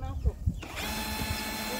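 A power drill whirs steadily after a couple of clicks and knocks, its motor holding a constant high whine near the microphone.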